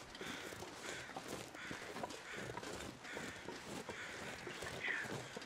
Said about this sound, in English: Let's go see what these crows are going on about.